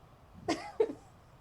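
Two quick, soft coughs in succession, fairly faint against a quiet background.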